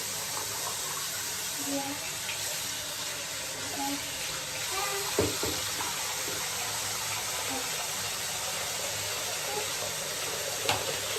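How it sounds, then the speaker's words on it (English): A faucet runs steadily with a constant watery hiss as hair is wetted, and a few faint knocks and movements sound beneath it. "Just wetting my hair with water right now"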